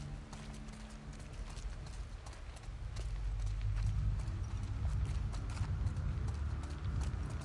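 Horse hooves clip-clop in The Last of Us Part 2, a quiet, steady patter of galloping hoofbeats under a low rumbling game backdrop that swells slightly partway through.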